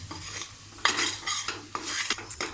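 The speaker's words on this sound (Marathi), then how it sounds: "आपले हे वाटण आहे ना ते परतून घ्यायचं आपल्याला" Onion masala paste being sautéed in oil over medium heat for a chicken masala gravy, heard as repeated scraping and stirring strokes of a spoon against the pan over a soft sizzle.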